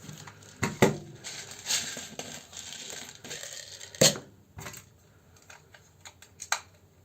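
Airsoft BBs loaded into a Cyma M16 magazine, with small plastic clicks and rattling taps at an uneven pace, close and fairly quiet, and a few sharper knocks among them.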